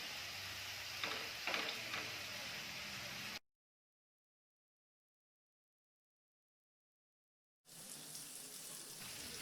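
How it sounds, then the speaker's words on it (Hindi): Paneer cubes frying in a pan on a medium-low gas flame give a steady, close hiss and sizzle. The sound cuts to complete silence for about four seconds, then resumes. "पनीर सब तरफ से अच्छे से फ्राई हो गया है।"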